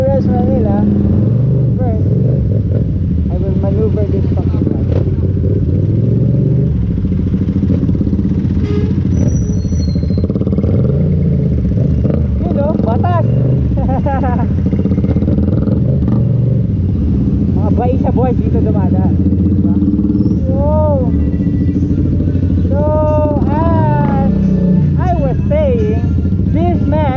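KTM motorcycle engine running while the bike is maneuvered at a night ride meet in Manila, a steady rumble with revving swells under loud crowd talk and shouting.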